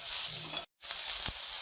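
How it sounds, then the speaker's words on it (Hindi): Chopped capsicum sizzling in a hot pan while cooking a chicken vegetable soup, a bright continuous frying hiss broken by a brief cut in the sound, heard alone. "शिमला मिर्च, ये भी 2 से 3 मिनट तक फ्राई करेंगे।"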